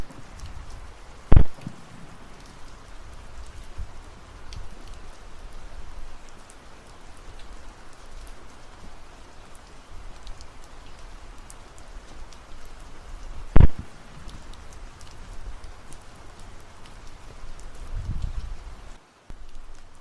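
Steady heavy rain pours outdoors, a dense continuous hiss of drops on surfaces, with two brief sharp knocks standing out and a low rumble rising near the end.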